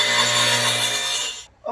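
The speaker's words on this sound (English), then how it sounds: "over on the compound miter saw, and I'm going to cut this tenon in it for you." Compound miter saw cutting a wooden tenon on a closet door rail: a loud, steady saw roar with a bright whine that runs about one and a half seconds, then cuts off abruptly.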